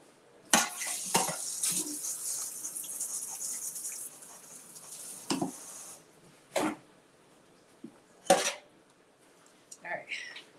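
Tomatoes for fresh homemade salsa are rinsed in water: a few seconds of running, splashing water, then scattered knocks and clatter of dishes and produce, with quiet gaps between.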